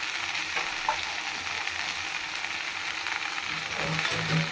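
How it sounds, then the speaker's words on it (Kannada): Palak spinach leaves fry in a pan with a steady close sizzle and crackle, occasional stirring scrapes rising over the hiss throughout. "ಹಾಕಿ ಚೆನ್ನಾಗಿ ಸ್ವಲ್ಪ ಫ್ರೈ ಮಾಡಬೇಕು"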